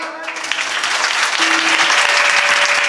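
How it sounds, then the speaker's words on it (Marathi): Audience clapping at a kirtan in Dongarjawala, a steady wash of many hands that holds loud and close throughout, with a faint tonal instrument drone beneath. "अरे जोरात वाजवा टाळी."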